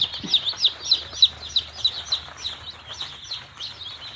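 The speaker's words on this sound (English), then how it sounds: "They're nice little chicks." A poultry barn is full of baby chicks that keep up a rapid run of high, bright peeping. The calls come close together and overlap at a lively rhythm, with no voices over them.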